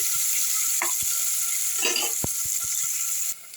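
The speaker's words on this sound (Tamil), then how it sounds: "வெங்காயம் நல்லா வதங்கிடுச்சுங்க" Onions sauté in a pan with a steady bright sizzle throughout, broken by a few soft stirring clicks and scrapes, close and fairly loud, no talking.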